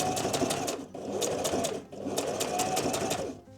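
Sewing machine stitching fabric leaves onto a fabric dollhouse, a close, steady whirring run that pauses briefly twice and restarts, with no talk over it.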